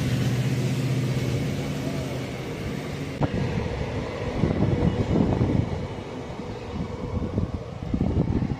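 Passenger train on the Badami to Hosapete route, a daily night service from Yeshwantpur to Vijayapura, running with a steady rumbling roar and rattling, louder bursts of clatter partway through, heard from close by on board.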